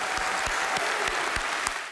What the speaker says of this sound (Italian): Un coro di applausi accoglie nell'aula magna dell'Università di Padova la formula di rito